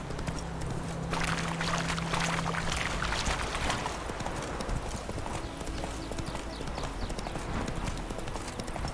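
Hooves of Roach, the horse in The Witcher 3, pound in a fast galloping clip-clop rhythm, steady and moderately close over low ambient game noise for several seconds.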